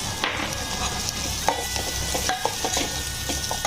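Chopped tomatoes go into a frying masala paste in a pan for a potato and field-bean curry, a close, steady sizzle broken by scraping, clinking stirs of a spoon against the pan.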